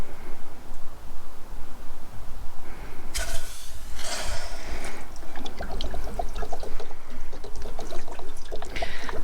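Water draining from the plug of a trailer's tank, a steady close pouring and trickling stream that swells into a louder splash for a few seconds.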